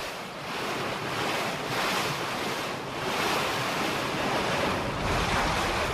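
Sea waves break on the coast of Galicia near Pontedeume, a steady, loud roar of surf with gentle swells and wind buffeting the microphone throughout.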